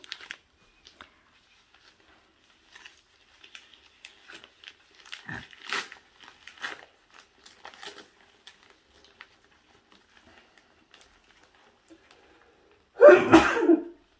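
One loud, close sneeze bursts out near the end, after a long quiet stretch of faint crunches, clicks and rustling at home during cookie baking.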